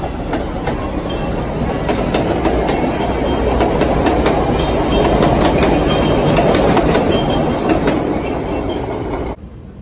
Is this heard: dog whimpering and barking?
no